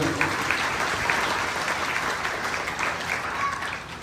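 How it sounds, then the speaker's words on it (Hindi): Loud, dense crowd applause fills a religious gathering, continuous clapping from many hands close by, holding steady throughout before easing slightly at the end. "एक बार इनके नाम की जोरदार तालियां"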